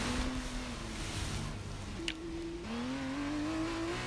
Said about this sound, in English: Let me just shush for a second so you guys can enjoy the car noise.